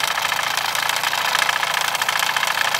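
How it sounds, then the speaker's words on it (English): A Mamod SP4 toy steam engine running and slowing slightly, giving a rapid, steady mechanical chuffing and rattling close to the microphone, with no talk. "the engine is slowing down a bit"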